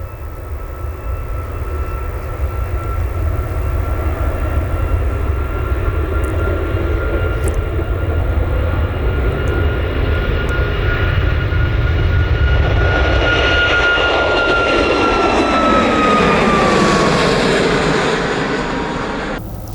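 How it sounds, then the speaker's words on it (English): A Ryanair jet airliner takes off from Manchester Airport with a loud, sustained engine roar. The roar builds and swells as the aircraft passes close by, then its pitch sweeps downward while it climbs away. "here we go, Ryanair blasting off somewhere"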